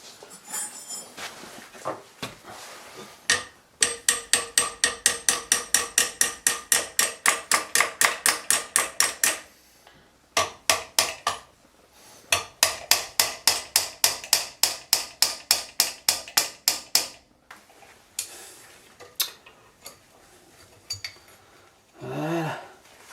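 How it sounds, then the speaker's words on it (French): A hammer taps the rear brake caliper of a 2006 Audi A3 whose rear wheel keeps dragging, striking metal in fast, evenly spaced blows in two long runs, close and sharp, with a few scattered knocks around them. "Petit coup de marteau là-dessus."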